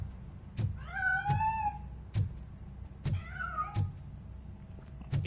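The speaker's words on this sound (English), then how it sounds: "That cat must be hiding inside." Cat meowing in the video game Robocop Rogue City, two drawn-out meows a couple of seconds apart over a low ambient hum, punctuated by sharp thumps and clicks, with no talking.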